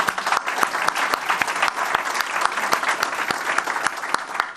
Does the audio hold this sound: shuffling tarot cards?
no